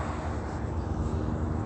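A helicopter flying overhead makes a steady, dense rumbling roar with broadband wash, continuous and fairly distant, alone without talk.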